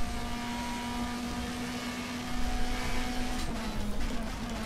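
A race car in the DTM Experience racing video game, set at the Hockenheim circuit. The engine holds a steady, loud drone, with a brief shift in pitch partway through and no talk over it.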